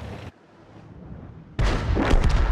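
A tank video game battle with an FV 304 artillery vehicle: a short boom at the start, a lull, then a loud, close blast that rolls into a sustained rumble of gunfire.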